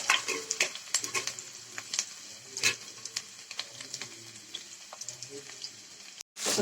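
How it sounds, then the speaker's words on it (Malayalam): Mustard seeds popping in hot oil, crackling in quick irregular bursts of sharp pops close by, with scattered talk in the background. "നമ്മുടെ കടുക് പൊട്ടുന്നുണ്ട്"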